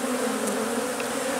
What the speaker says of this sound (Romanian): aici s-a agitat un pic albina